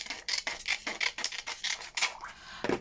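Scissors snip through acetate packaging scraps in a series of short, crisp cuts, close and fairly quiet, with a brief rustle of plastic between snips.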